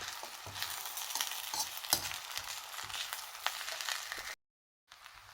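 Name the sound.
fried rice with corn being stir-fried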